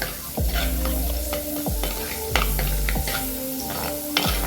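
Six cloves of chopped garlic and a piece of chopped ginger fry in hot oil in a pan, with a constant sizzle broken by repeated spatula scrapes and stirs at regular intervals.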